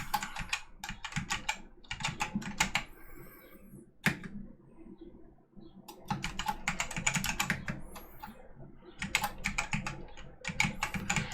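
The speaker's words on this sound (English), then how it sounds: "I had to start using my backup mechanical one." A backup mechanical computer keyboard clatters in rapid bursts of loud, crisp keystrokes close up, with a short pause in the middle before typing resumes.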